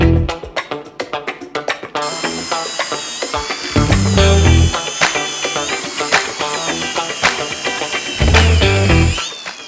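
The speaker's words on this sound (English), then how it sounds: "So we just used our mortar rake diamond blade" Angle grinder fitted with a Marcrist MR350 diamond mortar raking blade cutting out brick mortar joints: a loud, sustained high whine with harsh grinding that cuts out briefly and restarts, following a few sharp knocks.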